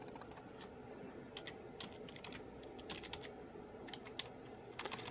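Keys clatter on a computer keyboard as a search is typed, steady bursts of soft clicks over a low room hiss, close and fairly faint, with no voices.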